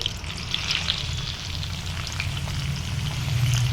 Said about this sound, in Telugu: టొమాటోలో ఉన్న నీరు పోయే వరకు ఫ్రై చేసుకోవాలి